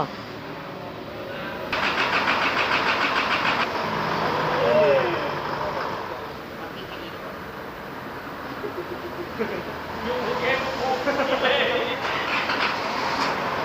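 A repaired and freshly overhauled Isuzu D-Max diesel engine cranks and catches, then settles into a steady, fairly quiet idle, with a brief voice heard nearby.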